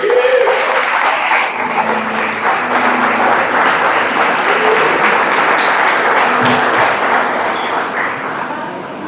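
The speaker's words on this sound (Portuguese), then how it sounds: "Pode aplaudir o Senhor." A standing church congregation at an anniversary celebration service claps steadily and warmly for several seconds, with a few voices calling out amid the dense applause.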